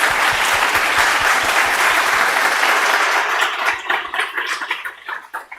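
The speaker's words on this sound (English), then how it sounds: "So let's give a big applause to Alan." An audience at a mass spectrometry seminar claps for a presenter, a full burst of applause that thins into scattered individual claps and tapers off toward the end.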